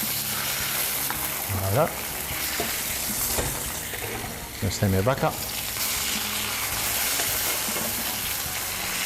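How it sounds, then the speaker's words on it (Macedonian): Food fries slowly in a pan in a home kitchen, a steady close sizzle with occasional stirring and utensil clatter, and a person briefly speaks over it. "Полека се пржи."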